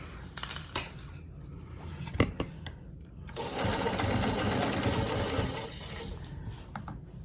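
A longarm quilting machine stitches a Baptist Fans pattern with rulers; after a few clicks and a sharp knock, the motor hums into a steady, fairly quiet rapid stitching whir lasting several seconds.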